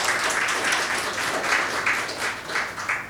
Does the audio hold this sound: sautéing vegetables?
no